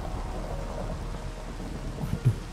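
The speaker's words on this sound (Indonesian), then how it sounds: "Aduh, hujan. Di sini hujan malah." Steady rain in Minecraft under a dark, stormy sky, a constant low patter with a brief thunder rumble near the end. No talk is heard.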